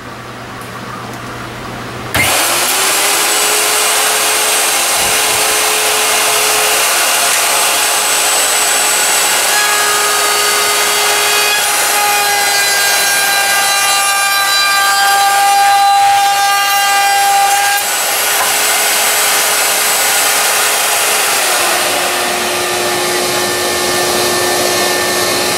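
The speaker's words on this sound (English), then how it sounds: "We have set the router up, and now we're going to run a scrap piece of wood through it" Router spinning up and cutting a profile into a scrap piece of wood, a loud, steady high-pitched whine with a rising motor tone at the start, then a continuous cutting roar for over twenty seconds.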